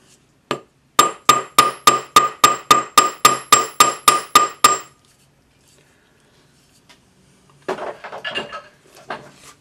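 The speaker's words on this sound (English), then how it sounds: "flatten this to half the thickness using my planishing hammer for that 20 millimeters" Thirteen or so sharp, evenly spaced metallic strikes of a slightly rounded planishing hammer flattening a 20 mm coin ring to half its thickness, ringing and close, followed by a pause and softer handling clatter.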